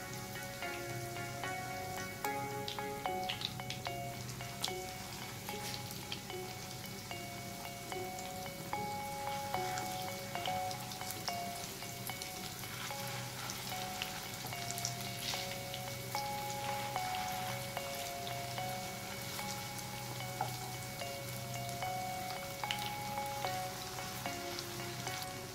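Galauti kebabs shallow-fry in a pan over a medium flame, giving a continuous soft crackling sizzle with scattered pops throughout, fairly quiet and steady, with no talking.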